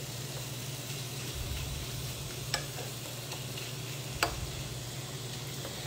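Shrimp frying in butter in a pan for a low-carb keto shrimp risotto, giving a steady even sizzle with a low hum underneath and two brief sharp ticks.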